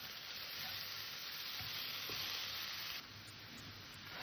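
Coconut filling for patishapta cooking over low gas in a pan, a soft steady sizzle with faint occasional stirring scrapes, quiet and close, no talk.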